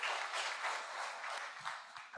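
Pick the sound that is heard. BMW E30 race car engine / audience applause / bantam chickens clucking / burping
audience applause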